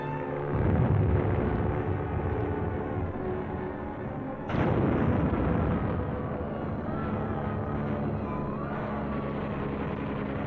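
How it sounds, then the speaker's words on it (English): Military aircraft dive on enemy positions, strafing and bombing them, heard as continuous, loud rumbling blasts and gunfire with a sharp new burst partway through. "they dive on the target, strafing the enemy, bombing and burning him out."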